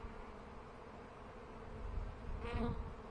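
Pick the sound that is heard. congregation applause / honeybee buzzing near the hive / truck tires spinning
honeybee buzzing near the hive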